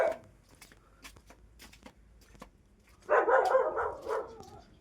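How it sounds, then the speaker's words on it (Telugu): Dogs bark nearby at a room in Bahrain, a few sharp scattered yips at first, then a louder burst of several overlapping barks near the end. "మీరు చూసి కుక్కలు అయితే మరుగుతున్నాయి మొత్తం"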